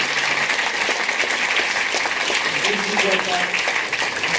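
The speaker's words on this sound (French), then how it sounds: "On peut les applaudir" A festival closing-ceremony audience applauds the jury, a steady broadband wash of clapping that runs throughout, with voices talking over it.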